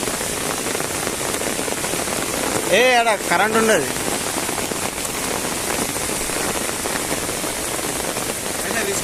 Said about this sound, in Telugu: వర్షం అయితే బాగా అయితే పడుతుంది.